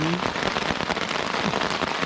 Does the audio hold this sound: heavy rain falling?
yes